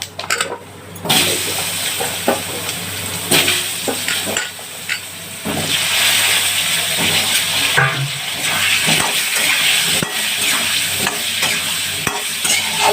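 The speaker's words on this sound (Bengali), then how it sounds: "তেজপাতা দিলাম আর অল্প দুটো জিরে দিচ্ছি, একটু হলুদ দিয়ে দিই" Bay leaf, cumin and turmeric hit hot oil for a koi fish curry, a steady close sizzle and crackle broken by occasional stirring scrapes, with no talk over it.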